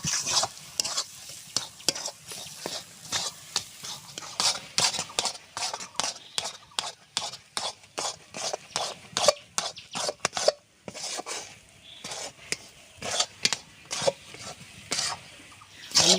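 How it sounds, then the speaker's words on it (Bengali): Spatula stirring boiled giant taro (mankochu) in a pan with no water added, a steady run of soft scraping, squelching strokes at close range, continuing rhythmically with brief pauses. "জল না দিয়ে এইভাবে মানকচুটাকে আমি এইভাবে নাড়তে থাকবো"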